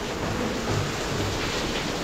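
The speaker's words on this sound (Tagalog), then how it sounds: "Aku yan na naman ang malakas na ulan." Heavy rain at a building site where ground-floor plastering is underway, a dense, steady roar of broadband hiss with no breaks, loud and close throughout.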